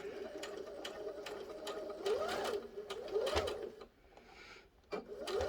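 A domestic sewing machine backstitches a seam on a small lip balm pouch, running forward and then in reverse in short bursts with rising and falling motor whine, brief pauses and mechanical clicks, close up and without speech.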